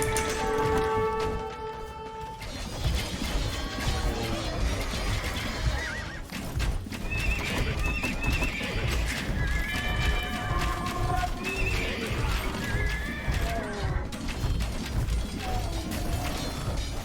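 Horses whinny and neigh repeatedly over a busy clatter of hooves and mechanical clicking in the video game Age of Empires II, a dense, continuous battle-like din.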